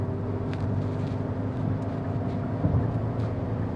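A Hyundai Alcazar facelift accelerating hard at full throttle after a downshift, a steady low engine drone with road rumble heard from inside the cabin, continuous and fairly loud.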